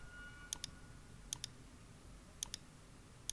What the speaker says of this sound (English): Now click on insert and then click on chart.